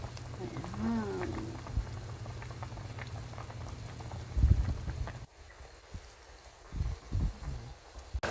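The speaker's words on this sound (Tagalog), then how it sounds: "konting pakulo pa sa ating chicharong bulaklak" Chicharon bulaklak bubbling in a pot, a close, steady boil with popping and gurgling and a brief louder clatter partway through before it settles.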